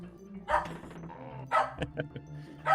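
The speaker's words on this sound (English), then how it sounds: "Sandy's barking at these Kremlings" A dog barks a few times in short sharp bursts, fairly close, with quieter sounds in between, while Donkey Kong on Switch 2 is played.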